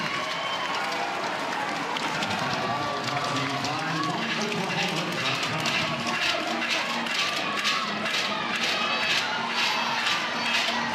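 A crowd of nearly 5,000 at Loves Field for an Oklahoma versus Texas women's softball game sends up a sustained, distant roar of cheering, with voices speaking over it.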